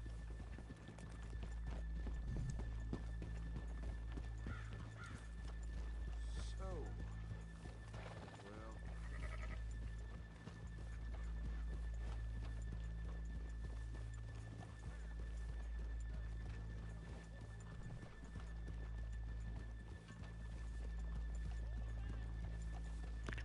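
Horse in the video game Red Dead Redemption 2 galloping with steady rhythmic hoofbeats throughout, with a whinny and snorts partway through and faint voices in the background.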